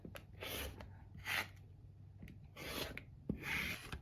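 A rotary cutter trims a fabric quilt block against a Tucker Trimmer ruler, giving four short rasping scrapes in an uneven rhythm, close and faint with no talking.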